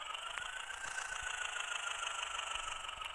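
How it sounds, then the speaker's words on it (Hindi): A Swaraj 724 tractor engine running, a steady mid-pitched mechanical drone with a faint regular knock, held at a constant level nearby without any voices. "ट्रैक्टर भी बहुत बड़ा है, स्वराज स्वराज"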